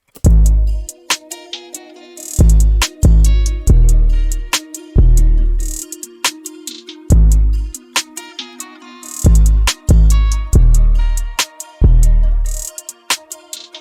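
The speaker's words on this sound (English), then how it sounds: "Like if we listen to the beat all together," A hip-hop beat with booming 808 bass hits and crisp hi-hats ticking above, punchy and loud, with short gaps between the bass phrases.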